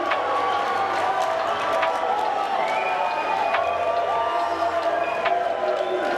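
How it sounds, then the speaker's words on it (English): A large indoor esports arena crowd at the Worlds 2023 OpTic vs SSG finals roars and cheers continuously, a dense wash of voices with scattered sharp shouts. "You can hear the crowd"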